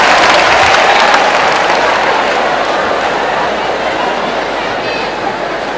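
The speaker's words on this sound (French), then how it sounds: "Applaudissez pour la famille DJ" A comedy show audience applauds loudly and steadily, a dense wash of clapping close by that eases slightly toward the end, with crowd murmur underneath.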